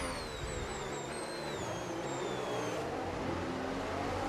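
F1 race car engine in the F1 26 racing video game, a continuous high whining roar whose pitch slides and shifts as the car revs, steady and loud throughout with no talking.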